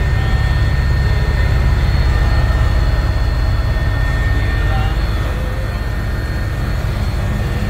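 Steady, loud rotor-and-engine drone of a helicopter in flight over Ayodhya with the deputy CM aboard, heard from inside the cabin as a constant low roar with no breaks.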